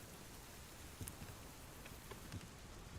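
Faint, steady rain hisses in the Subsistence survival game, with a few soft drip-like ticks scattered through a quiet, continuous wash of noise.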